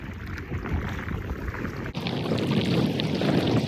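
Wind gusting and buffeting a microphone out on open water during a paddle boarding outing, a steady loud broadband rush that strengthens after a brief dip, with faint water sounds beneath.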